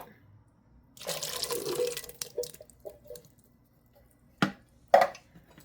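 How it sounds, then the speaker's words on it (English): Beans and their cooking liquid poured into a cooking pot for Puerto Rican rice with pigeon peas, a short wet splashing pour followed by a few soft clunks and drips, close by with no talking. "now we're going to add our beans again and the liquid"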